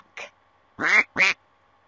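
A duck in a children's letters game quacks three times, one short quack and then two longer nasal ones, close and clear with no talking.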